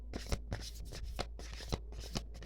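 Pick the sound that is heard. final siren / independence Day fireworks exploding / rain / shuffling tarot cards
shuffling tarot cards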